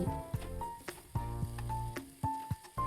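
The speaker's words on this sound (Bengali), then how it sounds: "এবার সব কিছু খুব ভালো করে আমি মিশিয়ে নিচ্ছি" A paneer dish with salt and a little sugar sizzles softly in a pan on low gas while being stirred, with intermittent scraping strokes over a continuous low hiss.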